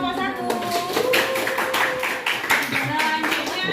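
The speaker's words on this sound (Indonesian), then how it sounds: "Tepuk tangan untuk kelompok 1." Classroom applause for a student group finishing their presentation during a school coaching session, a steady burst of many hands clapping close by, with some voices and a child's speech mixed in.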